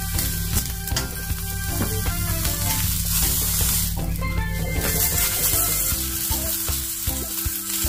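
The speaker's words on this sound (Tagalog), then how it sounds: "uubusin ko lang itong prito mga palangga yung ating talong" Steady, loud sizzling of eggplant frying in hot oil, a continuous crackling hiss with occasional stirring clatter.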